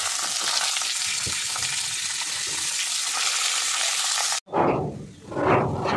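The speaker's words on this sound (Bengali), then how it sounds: "প্রথমে বটবটিটা দেবো কারণ এটা একটু সবুজ সবুজ গন্ধ আছে, ওই জন্য এটা আগে ভেজে নিতে হবে" Botboti beans frying in a pan give a steady, loud broadband sizzle for about four seconds, then a brief silence before a stirred, swelling hiss resumes.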